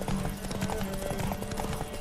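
Rhythmic clip-clop of a galloping horse in the video game The Witcher 3: Wild Hunt, steady hoofbeats close up with a faint tonal hum beneath.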